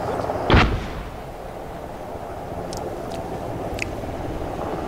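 A C4 charge goes off in the military game Arma 3: one sharp, booming blast near the start, then a low continuous rumble with a few faint distant pops.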